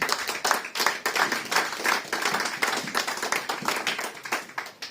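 Church congregation clapping together at a Sunday service, a dense, steady burst of many hands applauding close by for about five seconds with no talk over it.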